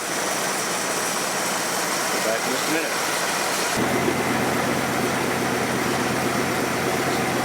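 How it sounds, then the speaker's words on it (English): A 1964 Plymouth Barracuda engine runs steadily and quietly, its tone shifting partway through as it settles into a smooth, even drone, with someone speaking briefly over it. "Sweet sounding engine."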